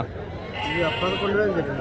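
Sheep and lambs bleat at a busy Saturday sheep market in Angallu, a few wavering calls close by over a constant murmur of crowd voices.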